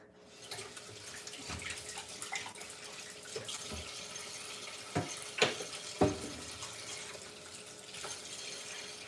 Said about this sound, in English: For the water bath, I'm going to fill a large pot with 1 quart of water.